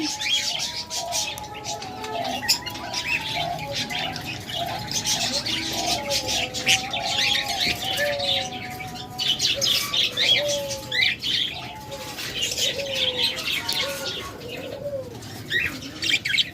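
Caged lovebirds and cockatiels calling continuously, a busy mix of chirps, tweets and low cooing with occasional wing flapping, steady and fairly close throughout.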